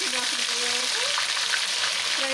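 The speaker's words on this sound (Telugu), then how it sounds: "ఇప్పుడు ఇదే ఆయిల్లో అల్లం వెల్లుల్లి పేస్ట్ వేసుకోవాలి ఫ్రై" Ginger-garlic paste fries in hot oil for a homemade chicken pickle, giving a steady, close sizzle with faint scraping of a spoon, no voices.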